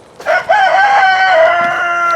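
A rooster crows in a long, clear call close by, rising and then held, with a farm setting of chickens around and no talk.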